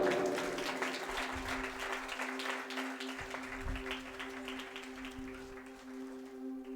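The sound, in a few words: audience applause for fathers on Father's Day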